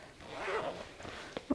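A zipper on the pocket of a denim pouch is drawn in one quiet, close pull, followed by two small clicks of the pull tab.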